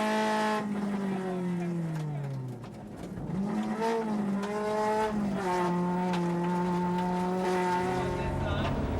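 Onboard a rally car at speed on special stage 4 of Rallye Saguenay 2006, its exhaust missing a muffler: a loud, raw engine note rising and falling through gear changes, with a brief dip, and voices talking over it.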